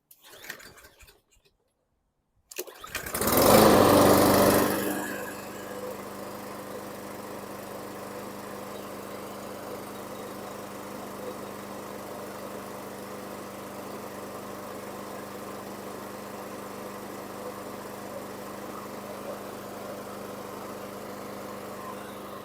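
A 2015 Troy-Bilt TB230 lawn mower, its fuel tank damaged by rats, roars to life after a brief silence, surges loudly for a couple of seconds, then settles into a steady, even idle that runs on alone.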